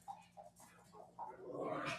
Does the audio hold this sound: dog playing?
yes